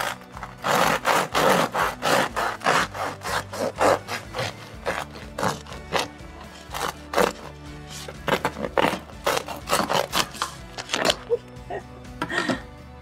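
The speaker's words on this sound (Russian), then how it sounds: "Разрезаю ножом пилочкой." A serrated bread knife saws through a still-warm crusty sourdough ciabatta, giving close, rasping strokes of crust crunching in a steady back-and-forth rhythm, with faint murmurs of voice at times.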